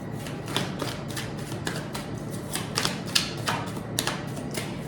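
Tarot cards shuffled by hand at close range, a steady run of crisp papery riffles and taps with a few cards dropping onto a surface, no talking.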